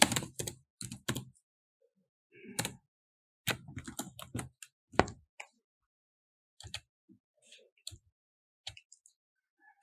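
A computer keyboard typed on in bursts of quick, close clicks, the clusters separated by short silent pauses, with no talking.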